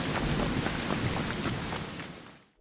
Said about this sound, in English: Heavy rain and thunderstorms wash out footsteps, drone hums, and even gunfire at a distance.